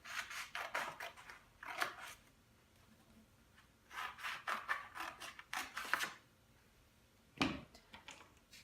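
Scissors snip through paper, cutting student project flaps into four sections, in several short bursts of quick crisp cuts separated by pauses, close and fairly quiet with no talk.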